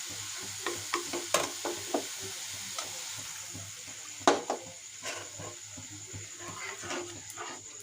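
Fish chachchari frying and being stirred in a pan, with a steady soft sizzle and repeated scraping clatter of a utensil against the pan, one sharper knock midway.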